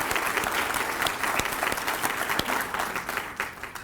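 An audience at an inaugural address applauds steadily, a dense burst of clapping from a large crowd that stays loud before beginning to taper near the end.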